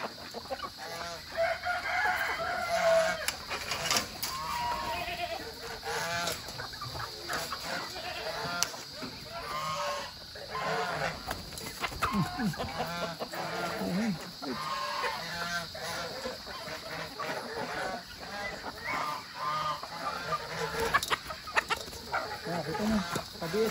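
Chickens cluck and squawk in an agitated crowd at feeding time, with a rooster crowing and occasional honks amid a busy, noisy yard.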